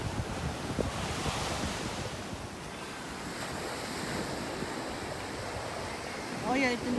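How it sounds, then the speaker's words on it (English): Surf breaking on a Punta Cana beach in the Dominican Republic in July, with sargassum seaweed along the shore; steady wash of waves mixed with wind buffeting the microphone and a voice speaking over it. "And this is the beach today, 4th of July."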